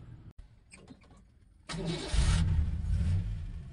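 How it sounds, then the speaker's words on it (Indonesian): A few clicks and a starter cranking, then a 1986 Suzuki Carry pickup truck engine catches and roars to life, settling into a loud, close rumbling idle. "biar jelas nih suara mesinnya"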